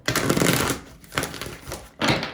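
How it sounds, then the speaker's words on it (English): A tarot deck is shuffled close to the microphone in three loud, rustling bursts: a long one, a shorter one in the middle and a final quick one, with no speech over them. "Okay, one more shuffle."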